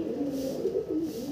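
A pet pigeon, a moulting bird with clipped flight feathers kept at home, coos steadily and close by in low, rolling murmurs with no talk over it.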